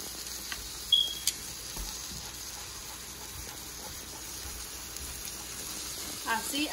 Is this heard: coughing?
no